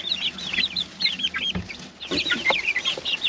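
Wyandotte and barred rock hens cluck in a busy backyard flock, overlapping high chirpy calls and soft clucks running steadily throughout, fairly close and with no talking.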